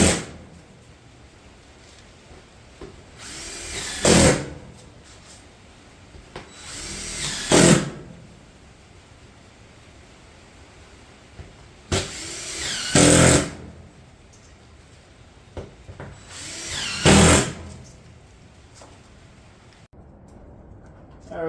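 A power tool fastening Granite Ridge roofing shingles on a roof: four sharp, loud bursts spaced a few seconds apart, each brief and close, with quiet stretches between them.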